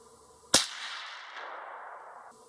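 A single sharp rifle shot from a Ruger American chambered in 300 Blackout cracks out during sighting in at about 25 yards, followed by a long fading echo trailing off over two seconds.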